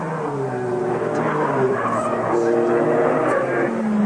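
A Mitsubishi Starion and a Ford race each other in the 1987 British Touring Car Championship, engines roaring loud and close in a continuous drone with shifting pitch as the cars run down the straight.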